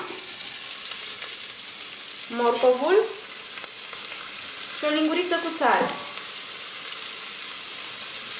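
Steady sizzling of onion and carrot frying in hot oil in a pot, with a couple of louder bursts of stirring and a voice speaking briefly over it.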